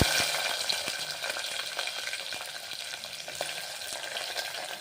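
Onions sizzling and crackling steadily in a hot oiled pan for a meal maker curry, a dense, close frying hiss with faint stirring clicks and no voices.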